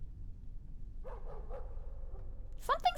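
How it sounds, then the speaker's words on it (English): A dog barking faintly in the background, a few soft muffled barks followed by a sharper, louder burst near the end, heard over a quiet low hum. "Oh, it's my dog barking."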